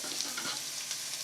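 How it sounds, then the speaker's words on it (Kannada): Onions hit two to three tablespoons of hot oil in a pan for a mushroom pepper masala, giving off a steady, dense crackling sizzle with no voice over it. "2 ರಿಂದ 3 ಟೇಬಲ್ ಸ್ಪೂನ್ ಎಣ್ಣೆ ಹಾಕೋತಾ ಇದ್ದೀನಿ. ಈರುಳ್ಳಿ ಹಾಕೋತಾ ಇದ್ದೀನಿ."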